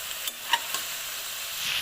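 Cauliflower goes into a hot sizzling pan already holding tomato sauce and oregano, making a soft steady hiss with a few light clinks and stirring touches, close and moderately quiet.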